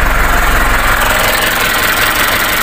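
Mitsubishi 4M51 diesel engine running steadily just after starting, a loud, continuous knocking rumble close by with no speech over it.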